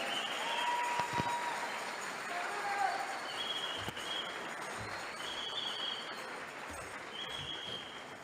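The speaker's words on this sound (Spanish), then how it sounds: "¿Le quiere dar una ofrenda de palmas a Jesús?" A church congregation claps in praise at a Spanish-language evangelical service, a faint, steady wash of applause running throughout with a few louder knocks.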